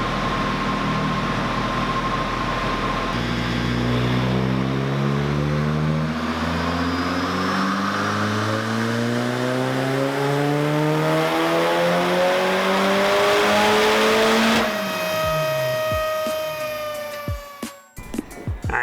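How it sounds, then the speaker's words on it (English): A turbocharged VVT Mazda Miata making over 300 horsepower revs through a full pull on a chassis dyno. The loud engine note climbs steadily in pitch for about twelve seconds, then drops away as the throttle closes, with no talking. "So here's a little 320 plus horsepower dyno pull for you guys."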